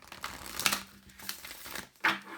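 Oracle cards are shuffled close up in a few quick, papery riffles and crinkles, the loudest bursts near the start and end, with no talking.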